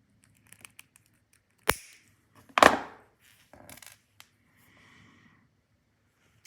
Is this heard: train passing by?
no